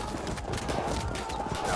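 Horse archers' mounts gallop across a battle in the strategy game Field of Glory 2, a dense, continuous clatter of hooves amid general battlefield noise.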